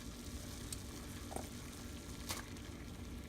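Asparagus blanching in a pot of boiling water on the stove, a soft continuous bubbling hiss with faint clinks, quiet and steady throughout.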